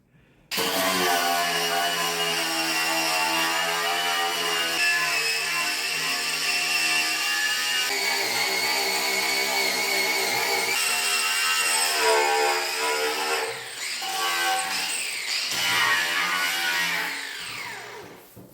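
A power tool whirs loudly and continuously while stripping paint from a motorcycle fuel tank, its pitch dipping briefly under load near the end before winding down, close up with no speech.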